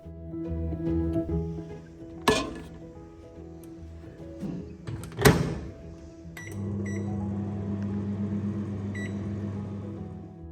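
A microwave oven heating lunch, with a few sharp clicks and bumps of a door or turntable, then a steady low mechanical hum that starts partway through and runs continuously to the end.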